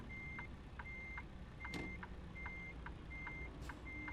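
A truck backing up in American Truck Simulator sounds a steady reversing alarm, evenly spaced high beeps repeating over a constant low engine drone, with two brief air hisses partway through.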